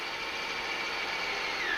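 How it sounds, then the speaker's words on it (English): A power drill bores holes for 2BA self-tapping screws, giving a steady, high motor whine held close and continuous, with the pitch dropping slightly near the end. "I'm drilling each one of those"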